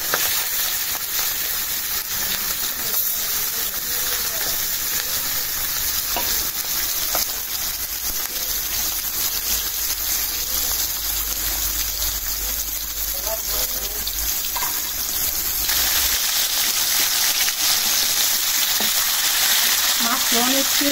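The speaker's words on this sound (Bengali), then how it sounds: "ভাজতে গেলে একটু সাবধানে ভাজতে হবে মনে হইতেছে।" Oily fish fries in hot oil, giving a loud, continuous sizzle and crackle close up, with spattering bursts and a steady bubbling hiss throughout, shifting slightly in tone near the end.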